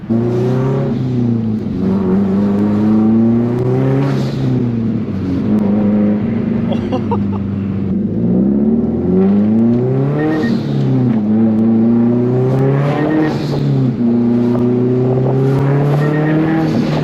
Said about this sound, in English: This is definitely one of the best sounding 4-cylinders out there